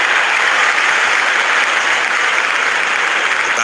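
Steady crowd roar and cheering filling a cricket stadium in the World Cricket Championship 3 video game, a continuous dense wash of applause and voices holding at even loudness throughout with no distinct individual speech.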